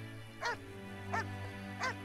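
A dog barks three times at an even, unhurried pace in The Witcher, each bark sharp and mid-distance above a steady low in-game hum.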